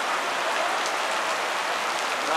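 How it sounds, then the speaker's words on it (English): Heavy rain pours down in a dense, steady hiss, close and continuous, with no voices. "it was raining like this"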